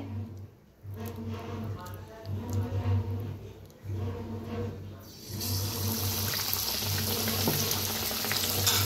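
Vada pav frying in hot oil, a bright dense sizzle that flares up loudly midway and keeps crackling steadily, with someone talking over the earlier quieter frying.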